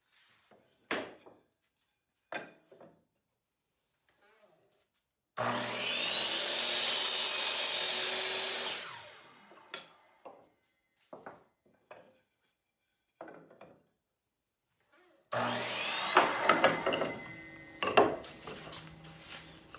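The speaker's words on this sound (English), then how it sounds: "So I'm setting up the compound miter saw. I'll put on the guide bar and we'll cut those pieces off." A compound miter saw fitted with a guide bar cuts pieces of reclaimed wood in two loud bursts, each cut separated by quieter knocks and the handling of wood.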